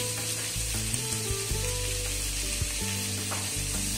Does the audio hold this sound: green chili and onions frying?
yes